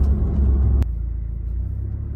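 Toyota Supra with a four-cylinder engine in sport mode, a loud exhaust rumble ending in a sharp single pop, then a quieter low idle-like burble.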